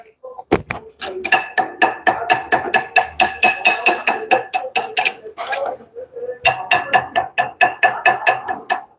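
Rapid, rhythmic metal hammer strikes chip slag from a weld on a broken Daihatsu rear axle shaft after an electrode change, sharp ringing taps in two quick bursts separated by a short pause.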